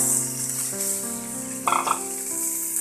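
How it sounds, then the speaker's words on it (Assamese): Pork pieces frying in a hot, dry wok with no oil, giving a steady soft sizzle throughout, with a brief louder scrape or shuffle partway through. "আমি প্ৰথমতে এই মাংসখিনি শুকান কেৰাহীতে ভাজিব লাগিব"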